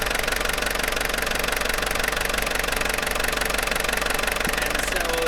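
A 1994 Toyota Hiace 3.0 litre turbo diesel with a leaking injection pump, running steadily with a fast even diesel clatter and knock, loud and close, unchanging throughout with no voices.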